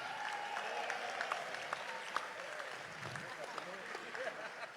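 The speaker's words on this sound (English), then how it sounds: "Give them a round of applause." Outdoor audience applause for Boca Raton city officials at a celebration for the FAU basketball team, a soft, steady wash of clapping from a distant crowd with faint voices underneath.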